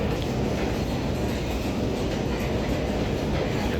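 A metro train rumbles loudly and steadily through a station in Sydney, with the continuous roar of wheels on rails and faint clatter, with no voices.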